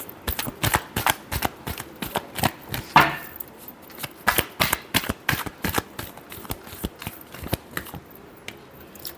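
Tarot cards are shuffled by hand in quick, crisp riffling bursts of sharp flicks, with a rhythmic run of repeated snaps close to the listener and no talking.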